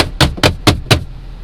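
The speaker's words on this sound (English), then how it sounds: "But yeah, turn signal's now clicking." Four evenly spaced clicks, moderately loud and close, ticking with a steady rhythm over a low engine hum.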